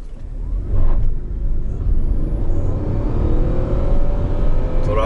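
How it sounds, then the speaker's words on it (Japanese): The engine of a new Nissan Serena e-Power starts up and settles into a low rumbling idle with a faint rising whine, close by and steady. "今エンジンかかる音が取れましたね。"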